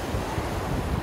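Black Sea surf washing onto the beach at Sochi on a summer day, a steady broadband rush of breaking waves mixed with wind buffeting the microphone, continuous and fairly quiet.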